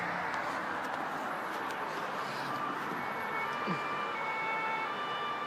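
A police car siren wailing at a distance over steady outdoor noise on a fishing trip, a faint rising and falling tone under the background wash.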